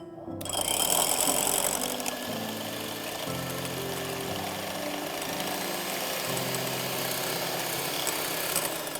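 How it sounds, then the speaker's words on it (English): An electric mixer whips egg whites with a pinch of cream of tartar for a jam Swiss roll, giving a steady close whirring drone that shifts pitch a little as the beaters move, with no talking over it. "So now we have to whip the egg whites"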